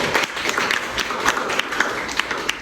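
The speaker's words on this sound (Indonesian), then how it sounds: "Tepuk tangan untuk Bardan" Students in a classroom clap for a classmate, a short, uneven burst of hand claps from a small group, fairly close and lively.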